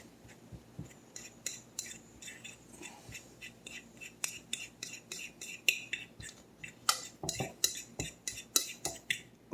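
Six egg yolks being mashed in a bowl for egg salad, with soft, irregular clinks and scrapes of utensil against dish repeating steadily and close at a low level.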